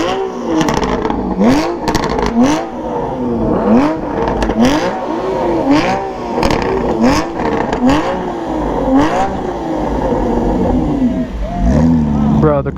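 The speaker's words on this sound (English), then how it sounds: "Some loud Porsches though, for sure." Several loud Porsche cars revving hard and pulling away from a car meet, repeated sharp engine blips and rising roars one after another, with people talking in the background.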